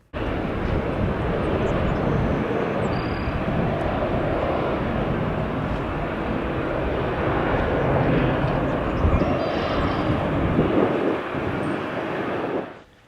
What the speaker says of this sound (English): 2 777s started going down the international taxiway.